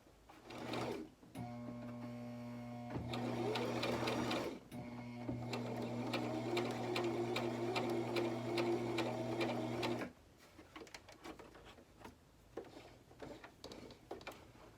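A sewing machine stitches a fabric face mask in two bursts of steady mechanical whirring, a short one then a longer run, followed by quieter handling clicks and rustling.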